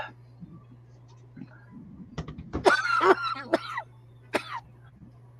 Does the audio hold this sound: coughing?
yes